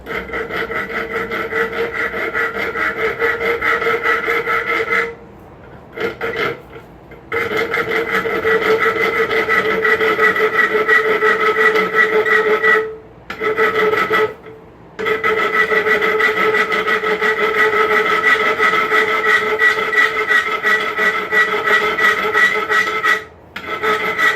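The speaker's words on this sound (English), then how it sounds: "I'm going to start with the smoother side of the rasp" The smoother side of a rasp files a forged steel paddle bit locked in place, producing loud, continuous grating strokes with a few short pauses between long passes.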